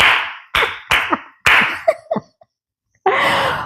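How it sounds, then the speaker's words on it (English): Rhythmic New Orleans-style hand clapping, a few sharp loud claps in a quick beat, each a crisp broadband smack, with short pauses between and a brief voiced sound in the middle. "You hear that Nola clap?"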